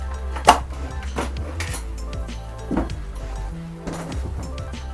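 A plastic body panel on a motorcycle is unclipped by hand, giving sharp snapping clicks and hollow knocks at irregular moments over a low background hum, close by and with no talking.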